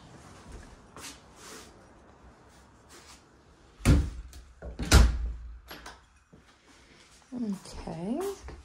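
Doors in a Big Bear home are handled near the kitchen: two solid thuds of a door shutting stand out amid soft creaks and clicks, while a person talks nearby.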